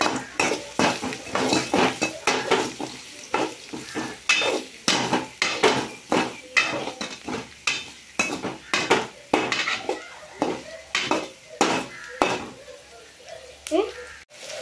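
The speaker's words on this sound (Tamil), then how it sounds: "இப்போ வெங்காயம் போடலாம். நல்லா கிண்டிக்கலாம்." Chopped onions and curry leaves get stirred in a pan, a metal spoon clanking and scraping against the vessel in a busy repeated rhythm over a soft sizzle, loud and close.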